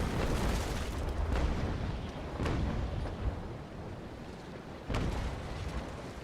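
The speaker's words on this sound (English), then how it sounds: "I'm gonna pound him with my port side cannons." Naval Action video game sailing-ship cannons fire a port-side broadside, a rolling series of heavy booms and blasts, with a fresh burst near the end, loud and continuous with no talk.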